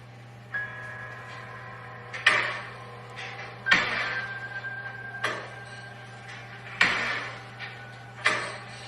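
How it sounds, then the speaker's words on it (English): Repeated sharp knocks and scraping bangs inside a reportedly haunted house, recurring every second or two at moderate loudness over a steady low hum, with no talking. "It's like a scurrying."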